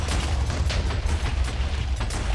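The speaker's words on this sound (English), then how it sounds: "if I throw these level 1s down, it causes some explosions" Level 1 splash potions from the Witchery mod burst into a string of dull, rumbling explosions in a Minecraft-style game, dense and continuous with repeated soft booms and no voices.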